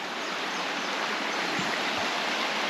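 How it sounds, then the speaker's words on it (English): A small stream at Waikaumalo State Park on Hawaii flows with a steady, broad rushing hiss, moderately close and unbroken, with no voices over it. "Certainly there's a little bit of a stream."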